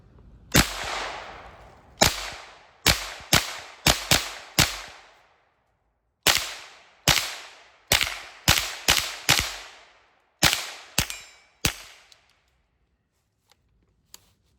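Shots from a GSG .22lr AK-pattern rifle at an outdoor range crack out sharply and close, in quick irregular strings of single reports separated by short pauses, then stop.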